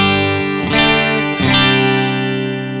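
Electric guitar run through an overdrive pedal with the gain turned fully down, two sustained chords struck about a second apart and left ringing, moderately loud and clean-sounding.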